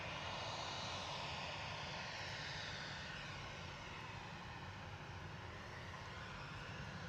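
EasyJet airliner from the Isle of Man arriving at Manchester Airport, a faint, steady broadband engine roar heard from a distance that slowly changes pitch as the aircraft passes.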